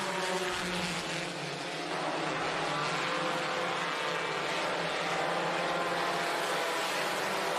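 Race car engine at Ohsweken Speedway during a Friday night dirt-track event, a dense continuous roar that holds steady and loud with no talk over it.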